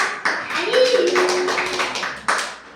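Children clapping their hands in a group activity, a few quick taps and claps near the start and end, with a voice and sung tones filling the space between.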